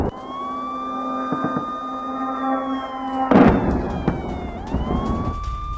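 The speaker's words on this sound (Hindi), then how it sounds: "हर तरफ वॉर सायरन सुनाई दे रहे।" Wailing war sirens sound across Kharkiv, several overlapping tones holding and slowly sliding in pitch, loud and steady with a burst of street noise partway through.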